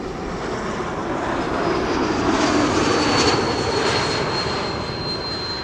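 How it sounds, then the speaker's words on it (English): A KLM Embraer E195-E2 jet airliner arriving at Amsterdam Schiphol Airport from Copenhagen passes nearby with a loud, steady engine roar and a thin high whine that swell slightly and then ease. "This is KLM flight 1268, arriving from Copenhagen, an E2 Embraer 195."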